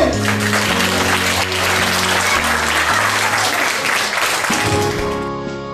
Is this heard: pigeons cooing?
no